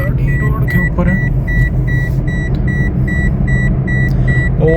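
Toyota Corolla converted from manual to automatic driving on a road, a steady loud engine and road drone with a repeating electronic beep chiming at a regular rhythm throughout.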